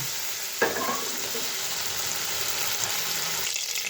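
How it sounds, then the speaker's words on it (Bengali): Tangra fish frying lightly in oil, a continuous close sizzle with a brief louder burst near the start, steady and unbroken with no talking. "তো মাছটা হালকা হালকা ভেজে নিয়েছি"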